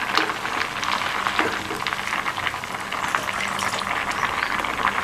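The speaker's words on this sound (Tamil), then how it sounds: "15 நிமிஷமாக கிழங்கு வெந்துட்டுருக்கு." Elephant foot yam simmers in water with tamarind, a dense, continuous boiling bubble rolling close and fairly loud throughout, with no voices.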